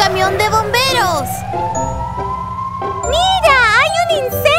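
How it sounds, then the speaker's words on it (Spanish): A cartoon fire truck siren in a Spanish-language children's show wails with rising and falling tones in two loud bursts, mixed with light jingling and animated voices. "¡Wow! ¡Es un camión de bomberos!"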